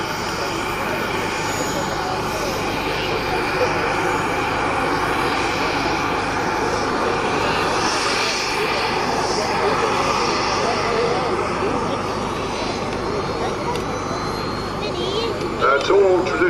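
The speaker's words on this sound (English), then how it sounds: "Two jets at 120s producing about 28 pounds of thrust on this model." A twin-jet model aircraft with two 120-size turbines giving about 28 pounds of thrust, built of balsa skin with thin epoxy glass cloth, roars steadily at an air show at Elvington airfield while a commentator talks over it.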